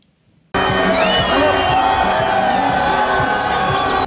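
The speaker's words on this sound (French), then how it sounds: "une foule immense l'attendait pour son meeting dans le cadre de sa campagne électorale" A huge crowd roars and cheers continuously at Moïse Katumbi's election campaign rally in Bukavu. After a brief silent start the noise cuts in loud and sustained, a steady wall of voices with whoops.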